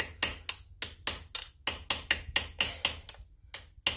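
A hammer striking a metal punch set against a snapped bolt, about fourteen sharp, ringing metallic taps in a quick, slightly uneven rhythm, close and clear with no talking.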